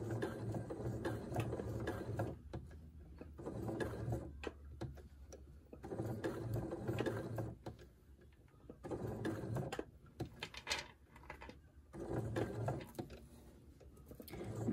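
Home sewing machine running slowly with a very short stitch length, stitching fabric snail shapes around tight curves; bursts of motor whir with stops and starts, close and moderately loud, no talking.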